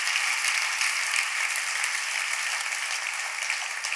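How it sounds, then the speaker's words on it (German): An audience at a triathlon awards ceremony claps steadily and densely throughout, a sustained wash of applause at even loudness with no speech over it. "klatscht einmal für alle Rennen"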